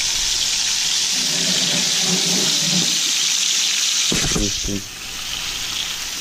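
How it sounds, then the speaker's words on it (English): Hot water runs steadily from a kitchen tap into a sink during home cooking, a continuous hiss and gush lasting throughout, with a brief clatter near the end and faint talk in the background. "Let's put that hot water on though."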